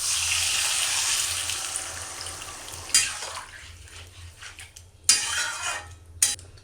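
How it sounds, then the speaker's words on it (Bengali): Hot water goes into a pan of spiced potatoes, pointed gourd and prawns being cooked for a Bengali festive dish, with a hissing rush followed by several clinks of a utensil against the pan, close and moderately loud. "এবার পরিমাণ মতো গরম জল অ্যাড করে দেবো।"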